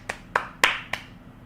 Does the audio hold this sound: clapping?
yes